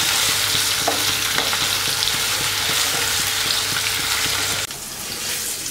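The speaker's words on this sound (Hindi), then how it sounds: "अब हम इसमें आलू मिला देंगे और आलू को भी हम अच्छे से फ्राई कर लेंगे।" Potatoes and pointed gourd fry in a pan with a loud, continuous hiss and crackle and a few stirring knocks; the sizzle drops abruptly quieter near the end.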